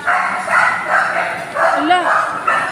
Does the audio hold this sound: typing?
no